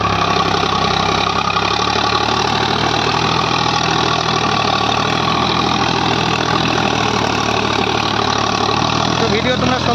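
A Sonalika RX 50 4WD tractor works a heavily grassed field, its diesel engine a loud, steady, close drone that holds an even pitch throughout.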